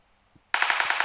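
Suppressed gunfire from a PUBG Mobile match: after a brief quiet, a rapid, loud burst of about seven or eight muffled, evenly spaced shots rings out close by, with no talking.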